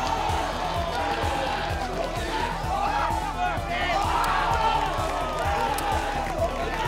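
A crowd cheers and roars at a Street Fighter V esports grand final, a sustained wash of arena noise with rhythmic thumping and clapping underneath, while a commentator talks over it.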